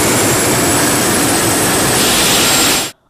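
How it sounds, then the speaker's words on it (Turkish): The T625 engine of the heavy-class Atak 2 helicopter runs for its first time, giving a loud, steady turbine roar with a high whine that cuts off abruptly at the end. "Atak 2 olarak bilinen ağır sınıf Taarus helikopteri ilk kez motor çalıştırdı"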